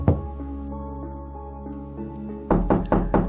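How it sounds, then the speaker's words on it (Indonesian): Knocks on a house door arrive after a sustained musical drone, a quick series of four or so solid raps heard fairly close and loud as the music cuts out. "Suara ketukan dan panggilan jelas terdengar dari luar."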